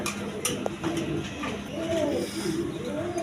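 Several paired rajgolla pigeons, a male and a female, coo softly and repeatedly in rising-falling phrases, close by, over a steady background hum at a pigeon market.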